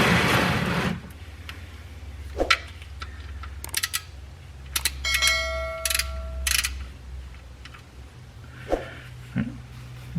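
Sharp ratchet clicks and metallic clinks from a wrench working the oil drain plug under a 2010-2017 Chevrolet Equinox, arriving in short bursts with pauses between, close and clear over a low steady hum.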